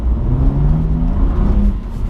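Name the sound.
car with Michelin Pilot Alpin 4 winter tyres accelerating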